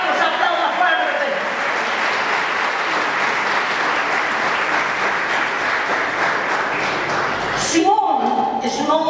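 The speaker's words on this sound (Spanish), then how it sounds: "Vamos a aplaudir fuerte" A church congregation applauds loudly and steadily for several seconds, the clapping thinning out near the end as a voice speaks.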